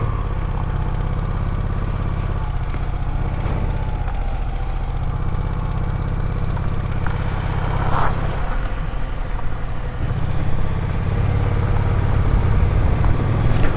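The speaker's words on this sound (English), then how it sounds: "Nothing like gravel coming out from under your front wheel." A motorcycle rolls slowly over a gravel road in Abbeville, Louisiana, its steady engine rumble loud and close throughout, with faint crunching under the wheels and no talking.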